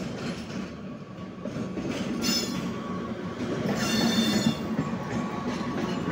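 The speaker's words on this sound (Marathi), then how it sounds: "ही बघा ती ट्रेन।" A train pulls into a station near Dativali, giving a steady, close rumble of rolling wheels with high metallic squeals rising over it.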